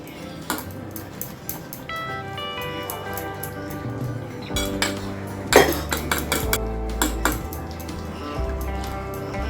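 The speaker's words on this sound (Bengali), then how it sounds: "মিশিয়ে নিয়ে আমি অল্প অল্প করে জল দিয়ে এই গোলাটা গুলিয়ে নেব।" Pakora batter mixed with water in a bowl, with wet squishing and repeated clinks and taps of a utensil against the bowl, close and irregular, with no one talking.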